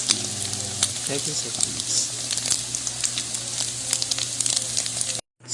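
Beef loaf with scrambled egg sizzles loudly and steadily in a frying pan, with occasional stirring scrapes and a brief spoken remark over the frying.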